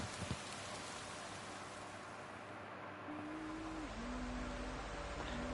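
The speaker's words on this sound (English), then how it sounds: "now it's raining" Steady hiss of rain falling in the video game Fatal Frame: Maiden of Black Water, soft and continuous, with a faint low tone sliding in partway through.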